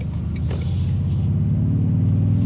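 A Toyota Tundra TRD Pro pickup truck drives along, its engine giving a steady low rumble throughout with a smooth, constant road drone and no voices.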